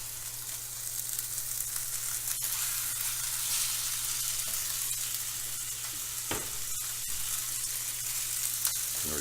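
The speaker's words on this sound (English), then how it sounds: "We're going to sear off these chops." Pork chops searing in a very hot pan hiss with a steady, dense sizzle, broken by a couple of sharp crackles and pops, over a low background hum.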